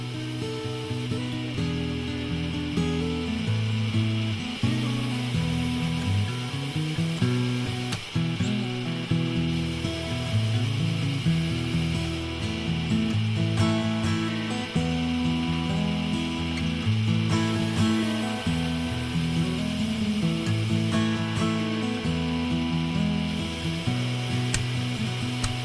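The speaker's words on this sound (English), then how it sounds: "At your sander, sand the corner posts flush with the face of the larger pieces" A sander works on wooden corner posts, giving a steady mechanical whir with a buzzing tonal edge that runs without a break for the whole stretch, with small shifts as the wood is pressed and moved and no talk.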